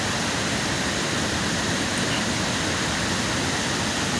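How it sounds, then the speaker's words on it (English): Bagam Waterfall in Cross River State roars as a loud, steady, unbroken wash of water noise that fills the whole moment without any voices. "At Bagam Waterfall."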